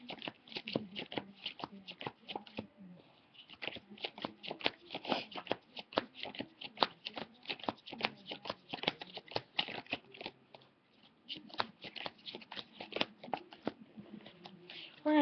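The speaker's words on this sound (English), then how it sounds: "So, we're going to start dealing down cards." Playing cards are dealt one after another for a card trick, producing a steady run of soft, close flicks and snaps with a few short pauses.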